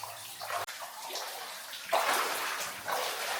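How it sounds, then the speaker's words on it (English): Water pours steadily through smashed, broken rock inside an abandoned mine, a loud continuous rushing wash that surges stronger partway through and again near the end, with no talking. "All that water pouring through it."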